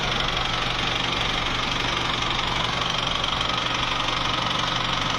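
A car engine idles roughly with a steady, dense rumble and a faint knocking rattle and vibration underneath, loud and close throughout without pause.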